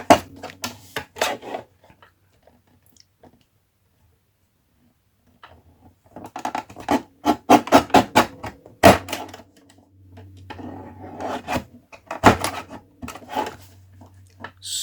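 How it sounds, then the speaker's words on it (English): A paper trimmer slicing paper gives bursts of rapid clicking and scraping strokes, close and fairly loud, separated by a quiet pause. "now I'm going back with the paper trimmer"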